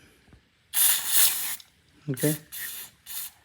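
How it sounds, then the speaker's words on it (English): Carburetor cleaner sprayed onto the PCV valve of a 2009 Toyota Camry 2.4 litre, several sharp aerosol hisses in short bursts, one long then three brief, with a brief spoken word between them. "So I'm gonna use some carby cleaner, carburetor cleaner."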